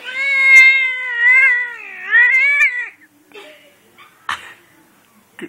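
An angry, fat cat gives three long, loud, wavering yowls in a row, close up, then falls quiet apart from faint rustles and a brief sharp noise.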